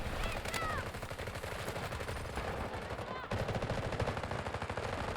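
Rapid automatic gunfire from a K416 rifle in the tactical shooter Delta Force, dense continuous bursts with a brief break near the middle, loud and close, with faint speech mixed in.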